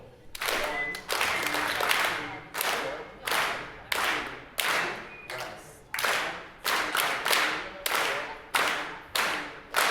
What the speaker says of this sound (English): And we're clapping.